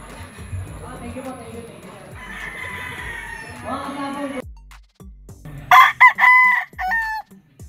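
Golden Boy sweater gamefowl roosters crowing at a game farm, several calls overlapping in the background, then a loud nearby crow near the end, with talking mixed in.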